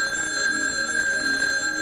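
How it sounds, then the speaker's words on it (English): An old-fashioned telephone bell rings steadily and loudly, a continuous bright metallic trill with no voices over it. "The phone's ringing."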